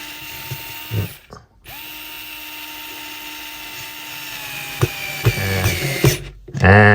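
A Bosch Go Gen3 electric screwdriver drives a screw into wood: a close, steady motor whine that runs for several seconds, with a short pause and clicking ratchet sounds near the end.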